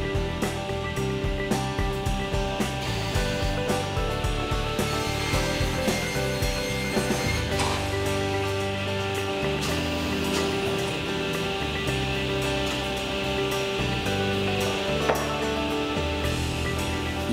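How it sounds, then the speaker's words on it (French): A saw cuts through wood at a stair-making workshop, trimming out knots and sapwood, with rasping, grinding cuts and clattering mechanical noise running steadily throughout. "À l'aide de cette scie, il est possible d'éliminer du bois des anomalies telles que les nœuds"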